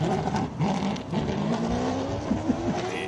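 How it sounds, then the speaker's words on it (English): Hillclimb race car with a Hendrix NASCAR V8 engine at a King of the Hill event, revving and shifting steadily for about three seconds with a few sharp rises in pitch, heard at moderate distance with no voices. "Jimmy Giannaccaro in with a Hendrix NASCAR engine."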